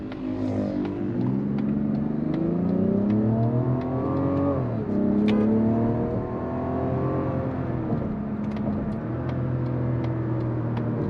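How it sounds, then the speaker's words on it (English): A 2024 Mazda CX-90 SUV engine revs high and steady, its pitch sweeping up and dropping sharply during a quick downshift, loud and close throughout. "Ooh, that is a nice high rev downshift."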